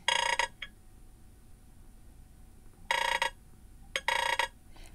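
The Hammer ringtone on a Nothing Phone 2 rings out as bursts of bright, metallic, bell-like electronic chimes, one opening burst then a pair of repeated bursts after a pause, loud and close with no talking.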